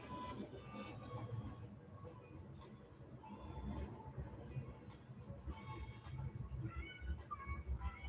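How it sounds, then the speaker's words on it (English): A train rolls past nearby, a steady low rumble with faint clanking and intermittent wheel squeal, audible throughout with no talk. "that train's still going by"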